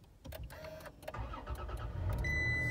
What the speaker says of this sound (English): And the vehicle starts up.